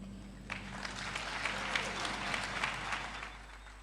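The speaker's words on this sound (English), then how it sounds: "Another round of applause for Ms. Wangiwe Kambuzi" An audience at a national youth summit applauds after a speech, clapping that swells in quickly and continues as a moderate, fairly even round of many hands, with a faint steady hum underneath.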